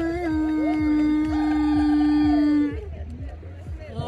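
A person makes a long, sustained howling imitation of a whale at a lawn birthday party, then it breaks off and the murmur of a crowd fills in. A steady low rhythmic pulse runs underneath throughout.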